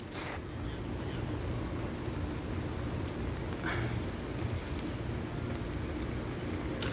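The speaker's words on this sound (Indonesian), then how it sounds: "ini udah hujan, guys. Lagi hujan ini." Steady rain in Saudi Arabia with a low rumbling wash, continuous and fairly loud throughout, no voices.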